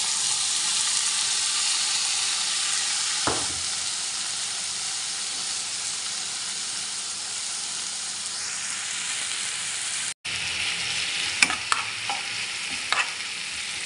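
Bacon fries in added cooking oil in a pan for bacon fried rice, giving a loud, steady sizzle and hiss. There is a brief cut partway through, then a few light stirring clinks over the continuing sizzle.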